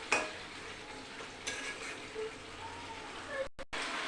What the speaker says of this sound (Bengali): আর কিছুক্ষণ আমি নাড়াচাড়া দিয়ে জল দিয়ে দেবো।